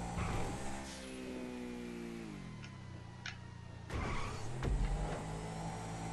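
A car engine in GTA 5 hums steadily, its pitch sliding down as it eases off, then a sharp thump and a brief rev near the end, fairly quiet overall.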